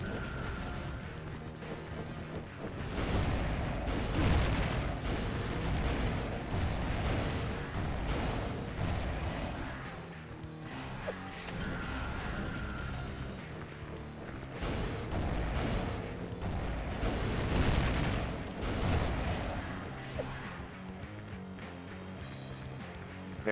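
Heavy cannon fire from the brimstone cannon in Spawn: Armageddon, a hellish video game weapon, rolling out in dense, booming blasts and crashes that fill the whole stretch with barely a pause, loud and close.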